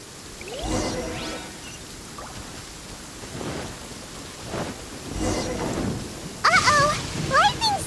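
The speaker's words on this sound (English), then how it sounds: "Lightning storm!" Thunderstorm in Genshin Impact, with steady rain and heavy thunder rumbling and cracking in two loud bursts, plus brief vocal exclamations near the end.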